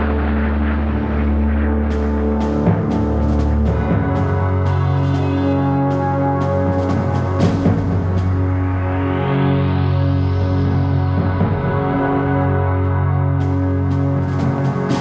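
Propeller engines of WWII Soviet fighter aircraft drone loudly and steadily with deep harmonic tones, shifting in pitch as the planes pass, with a rising-and-falling whine near the middle and no talk.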